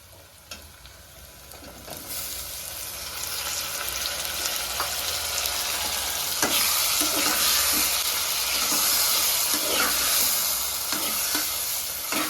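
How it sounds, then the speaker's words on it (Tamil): Onions and tomatoes sauté for a chicken gravy, a loud, close, continuous sizzle that builds slowly, broken by scraping stirs of a spoon in the pan, with no talking. "வெங்காயம் ஓரளவு வதங்கிருச்சு இப்போ நம்ம தக்காளி சேர்த்துக்கலாம்"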